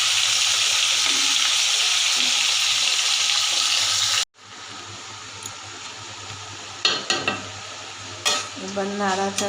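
Potatoes frying in hot oil with cumin seeds in a kadai, giving a steady loud sizzle that cuts off abruptly, followed by quieter frying with sharp scraping and clinking from stirring.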